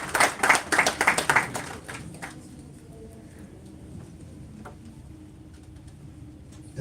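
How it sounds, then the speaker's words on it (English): Brief bursts of rhythmic clapping at a Mail & Guardian launch event with the Tshwane mayor attending, a few loud claps up front that quickly fade into a quiet room hum. "You can give him a round of applause."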